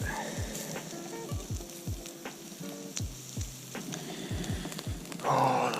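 Shrimp and steak sizzle on a grill after being flipped, a soft steady crackle with repeated low thumps and scrapes from handling.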